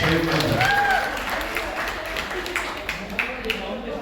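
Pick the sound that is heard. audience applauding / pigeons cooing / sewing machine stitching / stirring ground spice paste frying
audience applauding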